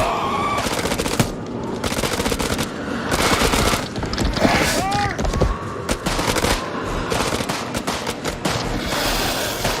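Rapid automatic gunfire rattles almost nonstop in the video game House of Ashes, loud and close, in repeated sharp bursts with short gaps between them.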